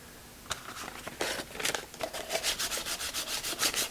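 Rhythmic scratchy rubbing strokes of sandpaper on primer-coated metal, speeding into a steady back-and-forth pattern, close and fairly quiet.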